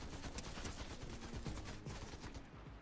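Rapid shotgun blasts from the Prime pump shotgun in Fortnite fire in a quick, fairly even series of sharp booming shots, layered over dense continuous game noise.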